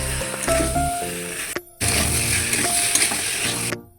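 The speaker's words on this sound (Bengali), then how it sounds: "আর এই কচুটা আর এই আলু দিয়ে বেশ খানিকক্ষণ ভালোভাবে কষিয়ে নিতে হবে।" Taro and potato sautéing in a spice paste, a steady close sizzle with scraping stirs and light utensil clinks, broken by a brief pause and ending in a short drop-off.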